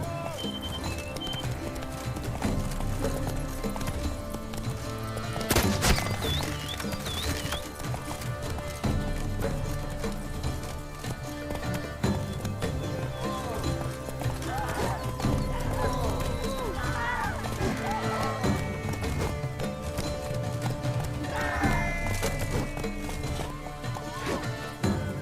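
The horse Roach in Witcher 3, hooves clip-clopping in a fast, steady gallop rhythm under game music and effects, with occasional neighs and a sharp crash, while a person talks intermittently.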